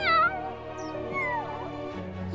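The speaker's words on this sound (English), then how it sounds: "Can you believe how bad he's tormenting Mary's poor little kitten?" A cartoon kitten meows in high, wavering cries over a steady musical underscore, loud and close throughout, with a second mewing call rising near the end.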